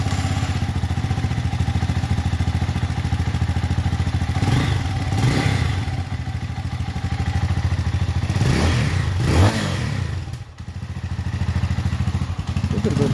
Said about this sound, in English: A bit of a backfire there.